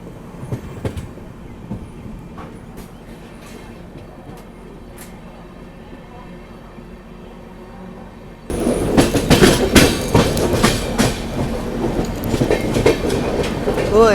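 A train runs on the rail line between Bhopal and Jaipur, a quieter rumble with scattered clicks at first, then loud rattling and clattering of wheels and carriages from about eight seconds on, close and continuous.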